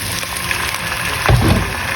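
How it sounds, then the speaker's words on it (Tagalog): Water is poured into a hot pot of ginger and clams, a sudden gush of liquid cutting through loud ongoing sizzling. "Lagyan na natin ng tubig"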